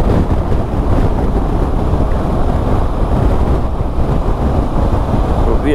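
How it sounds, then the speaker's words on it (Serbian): Strong crosswind roars over a moving motorcycle, a dense, loud, unbroken rush of wind buffeting throughout with no speech. "duva bočni vetar."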